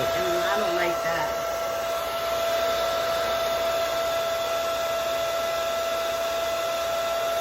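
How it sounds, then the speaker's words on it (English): A hair dryer blows steadily on a fake-scalp bob wig, a loud continuous whoosh that fills the whole stretch without pause. "there goes my dryer"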